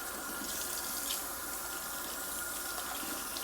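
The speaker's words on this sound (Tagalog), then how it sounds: "Kaya hugas muna bago luto." Tap water runs steadily into a kitchen sink while dishes are washed before cooking, a continuous close gushing hiss with no one talking.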